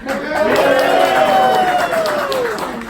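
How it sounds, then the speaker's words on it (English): Pitch night audience in Melbourne cheering loudly together, a sustained wash of crowd shouting and whooping with some clapping mixed in, steady and close for the whole stretch. "give me a big cheer so I can continue my work"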